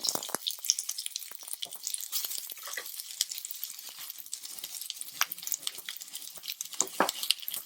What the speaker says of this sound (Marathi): आता यात आपल्याला हा उभा चिरलेला 2 मीडियम साईजचे कांदे घेतलेले आहेत, ते आपल्याला भाजून घ्यायचे आहेत